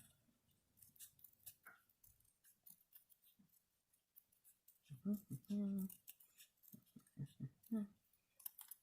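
Scissors trim an egg-carton cardboard petal for a cherry-blossom craft, with a cluster of crisp, close snips late on after quieter handling sounds and some soft talking.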